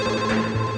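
A telephone rings with a steady electronic tone, loud and close, sounding continuously for under a second without any voices.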